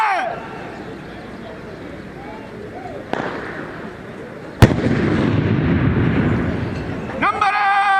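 A rifle volley cracks out at a passing out parade, a sharp report cutting through open-air crowd noise and shouted drill commands, followed by a second, louder burst and lingering rumble.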